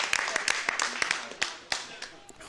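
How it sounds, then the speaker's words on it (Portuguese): Stadium crowd applauding at a women's under-age international football friendly between Portugal and Finland, a steady patter of scattered claps with a few sharper hand claps standing out, moderately distant. "Recolhe aplausos."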